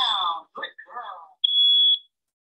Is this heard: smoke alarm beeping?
yes